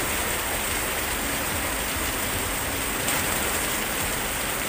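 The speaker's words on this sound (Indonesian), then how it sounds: "Dan ini di rumah pun lagi hujan deras, ya." Heavy rain pouring down at a house during a downpour, a dense, loud, continuous hiss of falling water with steady intensity and no talk.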